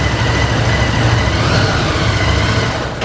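A superbike engine idles loudly close by, a dense, rumbling low throb holding steady with no other sounds.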